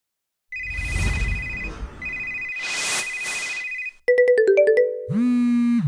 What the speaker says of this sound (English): Imagine call after call, your phone ringing dozens, maybe even hundreds of times a day